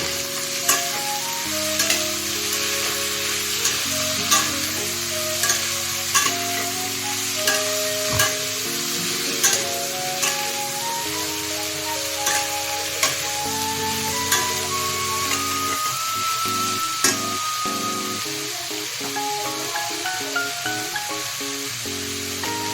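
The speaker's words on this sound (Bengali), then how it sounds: "এরপর এগুলো ভেজে নেব।" Cauliflower curry with chopped tomato sizzles and fries in a pan, a steady loud hiss with repeated scraping stirs of a spoon against the pan throughout, over soft background music.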